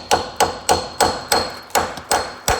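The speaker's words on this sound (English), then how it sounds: "We'll just kind of tap it on with the hammer." A hammer lightly taps a part into place with a steady series of about eight close, sharp metallic knocks, evenly spaced and ringing briefly after each strike.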